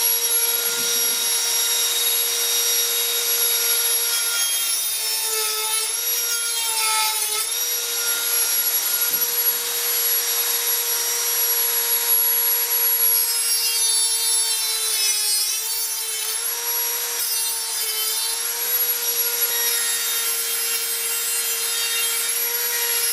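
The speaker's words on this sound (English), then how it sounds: "make a few minor adjustments with the Dremel" Dremel rotary tool grinding an electronic instrument cluster part to fit in a 1976 Mazda RX-5, a continuous high whine that dips and shifts in pitch as it bites, running steadily throughout with no talking.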